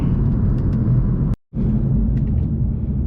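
A 600-horsepower stage 2 BMW F82 M4 cruises on the road, heard from inside as a loud, steady low engine and road rumble, broken once by a momentary dropout before the drone resumes.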